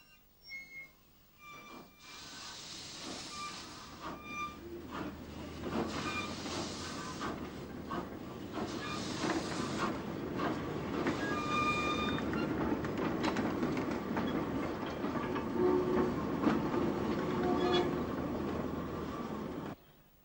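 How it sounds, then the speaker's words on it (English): Narrow gauge railway wagons being shunted at Belturbet in Ireland, a distant low rumble of rolling stock with scattered metallic clanks, squeals and clicks building and then fading over about twenty seconds, with no speech. "Narrow gauge wagons which had been brought to Belturbet have to be positioned for unloading"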